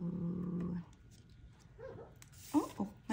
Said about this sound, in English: My little puppy is dreaming.